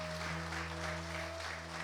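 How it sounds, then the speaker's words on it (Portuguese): Church congregation applauding together after a prayer, a dense steady wash of clapping held at even loudness throughout, with a sustained organ or keyboard tone underneath and no talk. "Vamos aplaudir Jesus."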